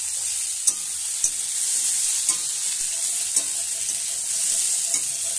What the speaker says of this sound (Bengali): এবার আলুর সঙ্গেই ভালো করে কষিয়ে নিচ্ছি।